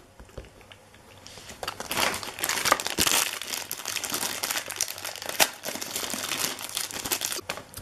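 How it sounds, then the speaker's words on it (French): Plastic packaging of a One Piece Dressrosa Luffy figure is crinkled and pulled open, giving a continuous close crackling and rustling that swells after the first second and stays busy throughout. "Et je vous déballe Luffy."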